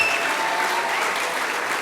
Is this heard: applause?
yes